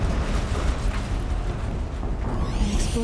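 A big explosion in the video game Horizon Zero Dawn, heard as a sustained loud, rumbling roar that fills the whole stretch without pause, with no talking over it.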